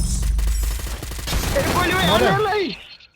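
Gunfire in an online squad shooter game sounds as a rapid burst of loud, close shots in the first second and a half, followed by a voice speaking over it.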